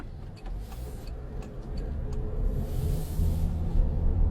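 A Toyota Grand Highlander with a 2.4 turbo engine drives along with a low, steady engine rumble that rises slightly, a few faint ticking clicks inside the cabin and no voices.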